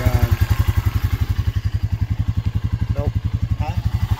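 A Honda Rancher ATV with a dead battery idling up close, a loud, steady pulsing chug of rapid, even engine beats, with voices briefly heard over it.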